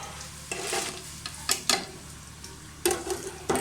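Fried pakoras dropped and stirred into hot kadhi curry with the flame switched off, giving a few soft splashes and scraping clatters against a faint steady background, no voices.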